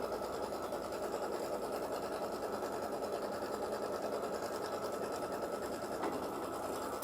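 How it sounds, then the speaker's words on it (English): A sewing machine stitches an A-size quilt block layered with batting, running a steady, fast, even whir from start to finish without pause. "I am stitching the A-size quilt block"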